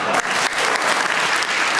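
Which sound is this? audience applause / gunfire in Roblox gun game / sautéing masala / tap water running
audience applause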